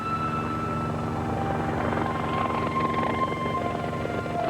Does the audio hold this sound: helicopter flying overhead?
yes